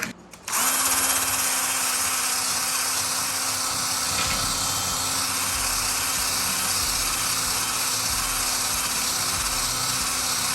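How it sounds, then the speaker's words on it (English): A power drill with a wire brush tip scrubs metal siding from a pop-up camper, a steady, loud, grinding hum that holds for about ten seconds. "we are cleaning off the siding with a wire metal brush tip for this drill."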